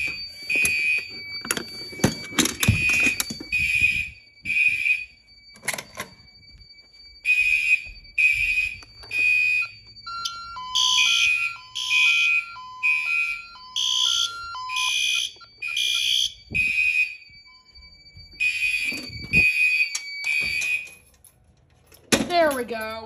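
A collection of fire alarm devices, including a Gentex Commander GEC324WR and a System Sensor 2W2WBI3, sounds together in loud, repeating electronic horn pulses and beeping tones, with clicks and pauses between bursts and a voice speaking at times.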